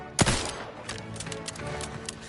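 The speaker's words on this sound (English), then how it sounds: "I'm gonna shoot one of these things." A sharp, loud gunshot rings out in the video game The Outer Worlds 2, followed by a string of smaller quick pops and impacts over a couple of seconds.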